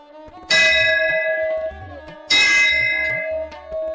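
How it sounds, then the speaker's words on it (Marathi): A temple bell at a large village Durga Devi temple is struck twice, each loud clang ringing out with a long, bright, shimmering decay before the next strike. "तर घंटी वाजूया आधी"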